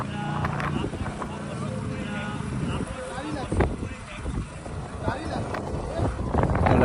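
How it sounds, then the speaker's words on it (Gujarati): A big boat approaching at sea off Mangrol beach, with a steady low engine and wind rumble running throughout and people talking over it. "જોઈ શકો છો તમે સામેથી મોટી બોટ આવી રહી છે"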